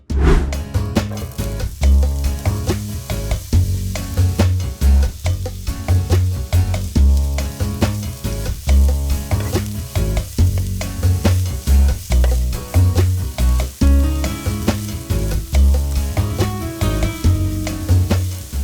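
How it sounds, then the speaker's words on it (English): Chopped onion sautéing in hot oil in a large pan on a stovetop for green chile chicken enchiladas, a loud close sizzle under a strong rhythmic thumping pulse, steady throughout with no voices. "Heat a large pan on the stovetop with enough oil to coat the bottom, and when it's hot, add in most of the chopped onion"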